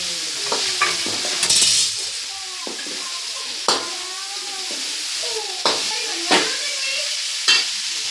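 Cabbage tossed and mixed in a sizzling frying pan for Manchurian, with a constant hiss and sharp scraping strokes of a spatula every second or so, close up and without speech.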